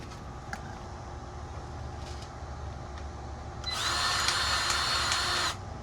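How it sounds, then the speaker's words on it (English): A Milwaukee battery-powered grease gun greases the front knuckles of a John Deere 322 tractor, whirring loudly for under two seconds after quiet background and small clicks, then cutting off. "I love this Milwaukee grease gun."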